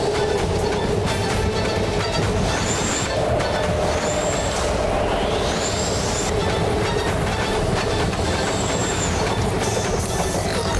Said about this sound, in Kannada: ಈಗ ಮೆಟ್ರೋ ನಿಲ್ತಾನೆ ಇಲ್ಲ.